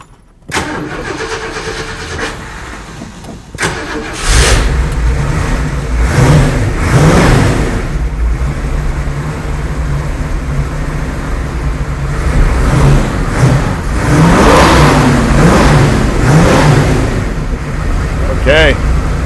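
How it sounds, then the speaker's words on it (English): A car engine cranks and catches, then settles into a loud, rumbling idle with several throaty revs rising and falling; faint voices under it. "It's got a great rumble with the exhaust they put on these."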